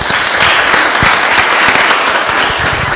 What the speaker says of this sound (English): So I want to give a round of applause to our panel members.